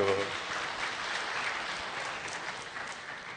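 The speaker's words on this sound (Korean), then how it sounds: "뜨거운 박수 드려요" Audience applause fills a Korea International Trade Association CEO breakfast meeting as a company CEO is invited to the stage, steady dense clapping throughout after a brief voice at the start.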